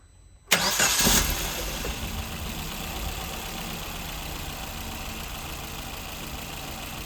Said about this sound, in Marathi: आता गाडी स्टार्ट करतो